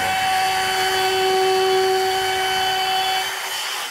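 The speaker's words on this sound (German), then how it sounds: "Jetzt habe ich so ungefähr 2 mm gefräst." A router fitted with a 12 mm bit mills 12 mm plywood while building a shelf, a loud steady whine with a high tonal pitch that holds throughout and eases slightly at the end.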